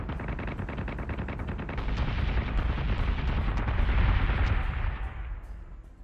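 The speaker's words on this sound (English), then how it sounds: "Missiles incoming." Incoming missiles in the space combat game Battlestar Galactica Deadlock, heard as a dense, sustained rumbling barrage of rapid weapon fire and blasts that swells louder midway and then fades toward the end.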